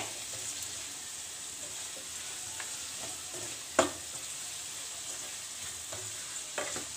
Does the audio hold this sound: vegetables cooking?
yes